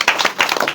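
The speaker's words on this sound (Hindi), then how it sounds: "इनके लिए एक बार जोरदार ताली बजाओ।" Short burst of classroom clapping for a student who answered a number-system question, a few quick claps close by with no talk over them.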